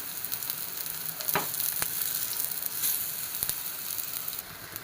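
Banana pieces fry in a pan for kalathappam with a continuous hiss and crackle that stays moderately loud. A couple of sharp clicks from stirring cut through it, and no voices are heard.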